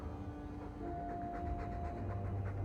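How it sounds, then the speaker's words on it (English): A Mabari war dog in a video game pants softly and rhythmically, close and faint, over a low ambient hum with no talking. "I'm sick of what's-his-name staring and panting."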